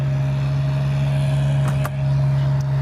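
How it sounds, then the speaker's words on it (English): An RV generator runs steadily on a Newmar New Aire 3547 motorhome on a warm day, powering both air conditioners; a loud, constant low hum with a strong steady tone and brief faint clicks midway. "I've got the generator going now because it's a warm day"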